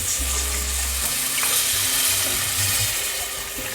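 Masala for a home-style Barrackpore biryani being stirred in a hot pan just after water is added, giving a steady loud sizzle and bubbling hiss with scraping stir sounds throughout.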